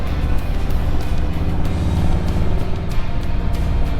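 A car driving up a hill, its engine droning steadily and loudly close by with a continuous low rumble and no break.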